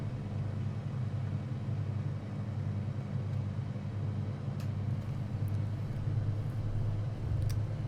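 A Cessna 182RG piston engine held at 1700 RPM during a run-up magneto check in a flight simulator, giving a constant low droning rumble that stays even and steady throughout, with no talking.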